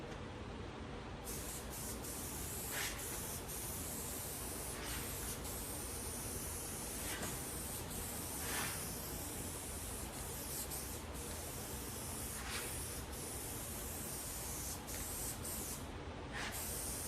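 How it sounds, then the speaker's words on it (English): An aerosol adhesive sprays onto a board for a 1964 Valiant rear package tray, with repeated short hissing bursts at close range separated by quieter gaps. "then I'll go ahead and spray this board and bring the foam over"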